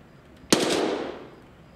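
A single gunshot in Escape From Tarkov, with a sharp crack followed by a quick metallic echoing decay.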